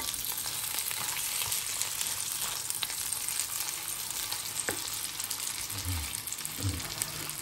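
Hotdog and egg frying in a pan for a Filipino breakfast give off a soft, steady sizzle that stays fairly quiet throughout, with a few faint knocks and clatters.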